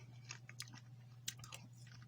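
Crunchy yellow rice from a Norwegian arctic field ration being chewed close up, with several irregular crisp bites and crunches over a steady low hum, no talking.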